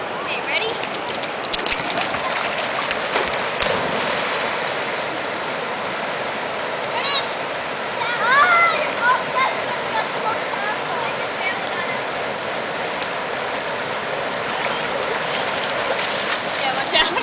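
A garden hose sprays water over a dog during an outdoor bath, a steady loud hiss and splatter running throughout, with a person talking faintly underneath.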